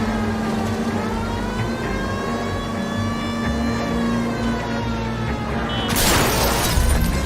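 Police car siren in the video game L.A. Noire, a loud steady wailing tone with strong harmonics, joined near the end by a sudden burst of crashing, shattering noise.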